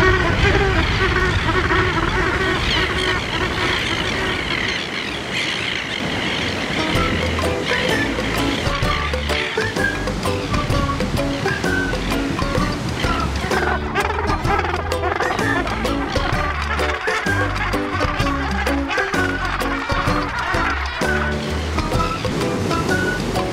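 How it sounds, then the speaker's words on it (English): Dense, noisy chatter of many bird chicks calling together at a wildlife site, mixed with steady wind buffeting and the wash of waves, loud and continuous throughout. "I'm surrounded by chicks and shit. It's so noisy, I can't even think."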